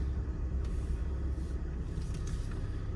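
Inside a 1995 Mercedes-Benz E300 Diesel on the road, a steady low rumble of engine and tire noise fills the cabin evenly and without talk.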